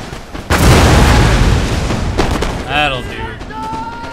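Cannon artillery fires in the Napoleon: Total War video game, heard as a loud booming blast followed by a rolling rumble with scattered pops. A voice cries out briefly afterward.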